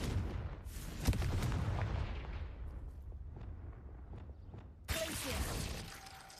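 The Confringo spell blast in Hogwarts Legacy lands as a fiery burst with a crackling, fading rumble, followed a few seconds later by a second sharp explosive hit. Game effects sit under faint background sound.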